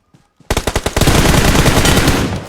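Gunfire in the mobile game PUBG Mobile: a few soft clicks, then a loud, close burst of rapid automatic shots that runs into sustained, dense firing.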